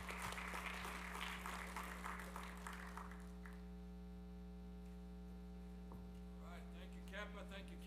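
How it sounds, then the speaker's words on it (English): Applause from a convention audience for a fraternity chapter, loud at first and then tapering off after about three seconds, over a constant electrical hum. "let's clap it up one more time for Kappa"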